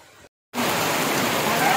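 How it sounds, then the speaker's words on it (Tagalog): Fairly heavy rain begins abruptly after a short silence, a dense, steady hiss of drops falling near a river. "Inabutan po kami ng ulan."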